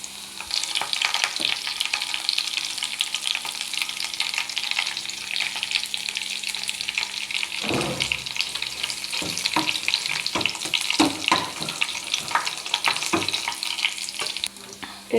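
Curry leaves crackle and sizzle in hot oil in a pan while jackfruit thoran is cooked in a home kitchen, a dense steady frying hiss with sharp pops and bursts of louder spattering and stirring scrapes.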